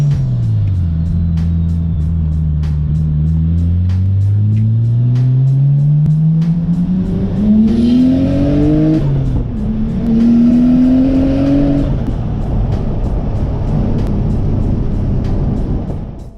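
Nissan Skyline R33 fitted with a Hypergear ATR43SS turbo, freshly tuned to nearly 300 kW, pulling hard through the gears, engine rising in pitch, dropping at each shift and climbing again, loud and close from inside the car.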